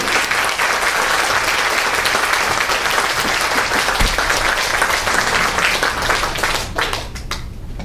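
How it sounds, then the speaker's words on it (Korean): An audience at a Korean press-cooperative event applauds to welcome its chairman, with dense, steady clapping that stays loud for about seven seconds before tapering off. "이사장님 박수로 함께 크게"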